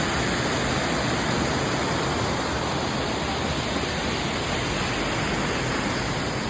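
Water runs at a Polish ski resort beside a terraced restaurant, a loud, constant rushing wash like a nearby waterfall or stream that fills the whole scene without a break.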